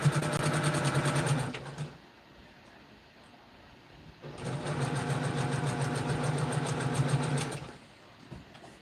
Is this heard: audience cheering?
no